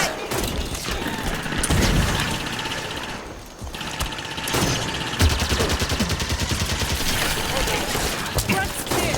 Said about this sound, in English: Enemy firing from that leg!